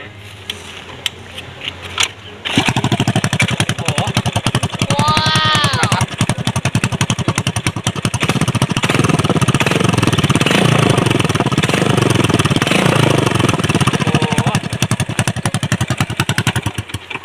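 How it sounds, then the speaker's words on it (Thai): A Honda MSX motorcycle with a homemade stainless exhaust bursts into a loud, rough, sputtering roar after a quiet start, revving and rumbling continuously up close. "ทีนี้เรามาฟังเสียงท่อกันนะครับ ว่ามันจะลั่นจะแยกแค่ไหน"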